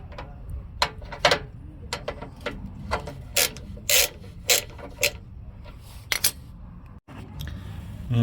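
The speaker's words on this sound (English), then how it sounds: "To unscrew these 2 bolts, I use the socket number 12." Socket wrench with a 12 socket loosening two bolts on a Nissan Titan: repeated short rasping ratchet clicks in irregular bursts, close and fairly crisp over a low background hum.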